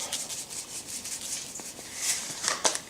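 Salt being shaken over sliced gyro lamb meat, a soft gritty rustling patter with a few brighter granular hits toward the end, close and faint, without talk.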